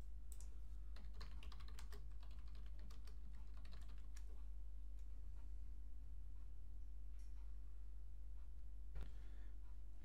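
Someone types a command on a computer keyboard, a run of sharp key clicks in quick bursts, then sparse isolated taps over a steady low hum.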